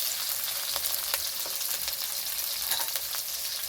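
Onion, green chilli and capsicum stir-fried in hot oil for chili chicken, a steady close sizzle with faint scraping stirs throughout and no voices.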